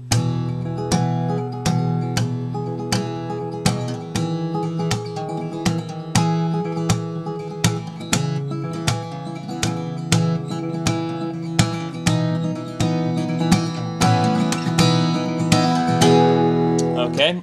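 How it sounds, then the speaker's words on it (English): An acoustic guitar in DADGAD tuning is strummed with percussive slaps on the strings and body, sharp regular hits driving a bright ringing chord pattern, played close and loud throughout the song. "he starts doing the percussive slapping stuff halfway through, and that sounds like this"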